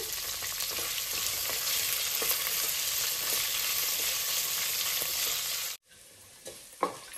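Green peas and onions fry in a pan with a loud, steady sizzle and occasional stirring scrapes. The sizzle cuts out abruptly near the end, leaving quieter background and a single clunk.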